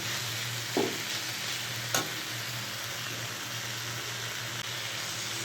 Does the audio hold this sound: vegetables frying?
yes